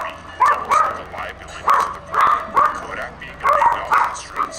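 Dog barking repeatedly in a home during a Madden football gaming session, with about six loud, evenly spaced barks close to the microphone.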